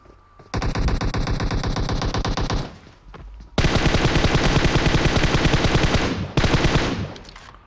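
Sustained automatic bursts from an M249 machine gun in a shooter video game, two long loud rapid-fire strings with a brief pause between and a short break near the end, no talking.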